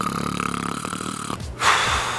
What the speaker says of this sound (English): No one's just stopped snoring out of nowhere.